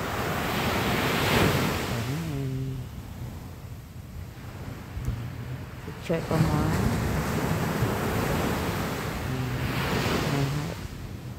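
Sea waves surge and crash repeatedly against large rocks amid heavy wind noise, with a few brief voices speaking over the roar.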